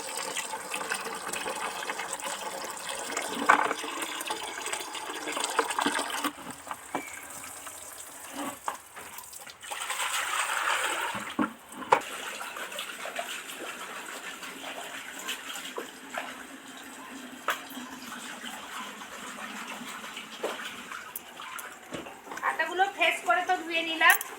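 Ivy gourd (telakochu) leaves are dropped and swished into a bucket of water in a rural home kitchen, giving a burst of close splashing and sloshing, with a voice heard at times.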